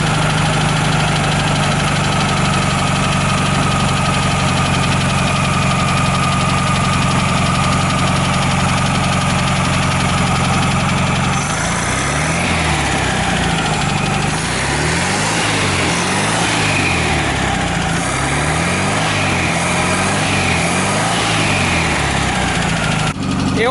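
An air-cooled 1981 VW Fusca 1300 engine idles loudly and steadily up close, its rhythmic chugging shifting partway through as the distributor is turned to retard the timing and the idle speed drops slightly.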